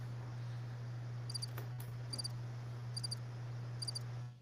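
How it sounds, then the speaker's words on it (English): A cricket chirping sound effect, played as a joke on a sports talk show, gives four evenly spaced short trilling bursts, faint and thin, over a steady low electrical hum with no talking. "I thought the crickets was more appropriate"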